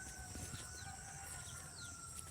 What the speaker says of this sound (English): Beautiful sounds of the rooster.